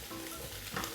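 Shishito peppers stir-fry in oil over high heat with a steady, close sizzle. A brief stirring scrape comes near the end.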